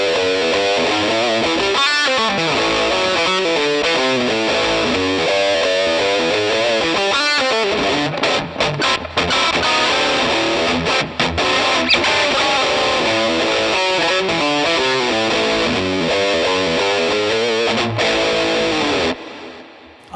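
Distorted electric guitar played through a HeadRush pedalboard, a busy, sustained passage washed in echoing delay and reverb, with lingering tails as the notes ring out at the end.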